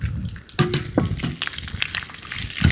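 Dried red chillies and small onions frying in a pan for guava leaf chutney, with steady crackling sizzle, stirring clatter and a few sharp metallic knocks close by, no talk.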